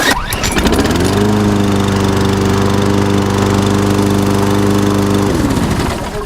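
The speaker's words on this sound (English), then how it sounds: "The last mower we were looking at, it had a recoil style starter." A Briggs & Stratton lawn mower engine with electric start fires up and runs at a steady, loud, even drone for several seconds, then winds down at the end, with no voices over it.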